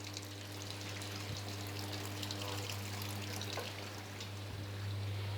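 Water pouring and trickling into an IFB washing machine filling for a wash cycle, over a constant low motor hum, steady throughout.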